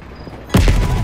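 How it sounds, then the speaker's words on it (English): Gunfire in Call of Duty Black Ops, during a Vietnam-era firefight in the Central Highlands, erupts suddenly after a quiet lead-in as a loud, dense volley of shots with booming low rumble, sustained to the end. "you followed the road right toward the sound of gunfire"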